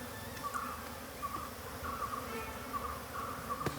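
Honey bees buzzing at a wild hive entrance during a honey hunt, a faint, steady droning hum with soft intermittent whines as insects come and go, heard alone without talk.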